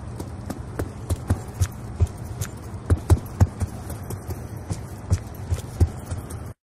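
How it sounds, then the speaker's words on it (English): Footsteps in Black Ops 2 heard with the Awareness perk active and no Dead Silence on the enemy: a steady run of clear, fairly close thudding steps, evenly spaced over low background game noise. "In this case, the footsteps can be heard quite clearly even if there's some background noise going on."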